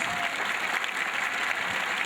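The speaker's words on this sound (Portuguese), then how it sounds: "Uma salva de palmas para os missionários." A congregation at a parish gathering gives a round of applause for the missionaries, dense continuous clapping at fairly loud, even level from start to finish.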